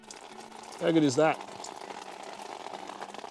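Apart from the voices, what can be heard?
Companion AquaHeat portable camping shower water running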